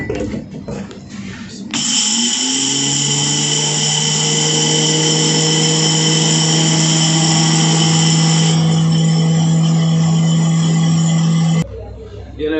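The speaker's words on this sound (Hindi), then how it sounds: "इसको मैंने ये देखें ग्राइंडर वाली मशीन में डाल दिया" A grinder machine milling rice into flour starts up with a loud, steady motor whine and grinding drone that holds for about ten seconds, then cuts off abruptly.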